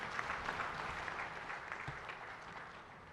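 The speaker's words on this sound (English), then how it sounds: "Another round of applause, ladies and gentlemen." Audience applause at the SADC Heads of State and Government summit, a steady dense wash of clapping from a large crowd, moderately loud and sustained throughout with no break.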